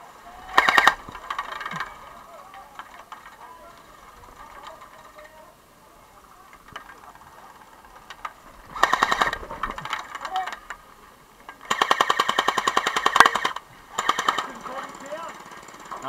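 Bursts of rapid automatic gunfire from a tower defence video game, three short volleys spread across the stretch with quieter gaps between, the longest burst near the end.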